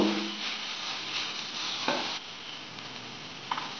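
Poha with crushed kasuri methi stirred in a hot pan, a continuous dry scraping and sizzling with a couple of brief knocks of the spoon, no talk.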